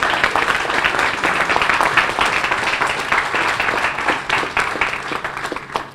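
Warm crowd applause at a restaurant ribbon cutting for the Airport Grille, honoring the kitchen staff, steady and sustained with faint voices mixed in before it tapers at the end.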